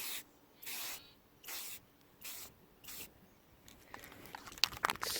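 Spray paint is applied in short bursts as a final tint coat goes onto the tail light of a 1992 Jeep Cherokee XJ outdoors. Five close hissing sprays come in even rhythm, followed by faint rustling and handling noise.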